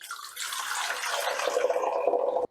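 Water pours steadily into the reservoir of a nugget ice maker, a continuous close splashing fill that runs for about two seconds before stopping abruptly.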